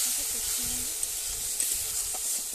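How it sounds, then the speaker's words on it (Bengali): A spice paste of onion paste, chili powder and turmeric with a little water sautéing in a pan, a close, steady sizzle with faint stirring scrapes throughout. "পেঁয়াজ বাটা, পরিমাণ মতো লঙ্কার গুঁড়ো, হলুদের গুঁড়ো, দিয়ে আমি অল্প একটু জল দিয়ে ভালো করে একটু মশলাটাকে কষিয়ে নেব।"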